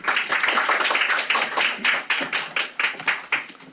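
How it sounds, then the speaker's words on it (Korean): A seminar audience at the National Assembly applauds with steady, dense clapping that thins into separate, louder claps toward the end. "모두 박수로 환영해 주시기 바랍니다"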